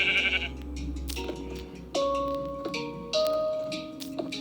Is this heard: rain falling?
no